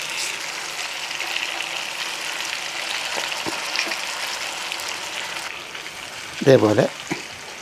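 Unnimery fish fries in a pan for a Kerala-style fish roast, giving a moderate, even sizzle throughout, with a brief clatter from turning the pieces near the end.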